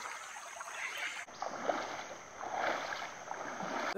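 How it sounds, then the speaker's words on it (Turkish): Someone wades barefoot through a shallow jungle stream in Panama, with soft, close trickling and sloshing water that swells and fades over a few seconds. "Şimdi dere var. Böyle mecbur yürüyüp geçeceğiz."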